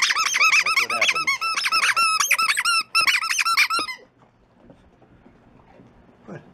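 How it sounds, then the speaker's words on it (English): A new squeaky Binky dog toy from Walmart is squeezed over and over in rapid, shrill bursts for several seconds, then goes quiet apart from faint rustling and a soft thump. "New Squeaky Binky that I got at Walmart."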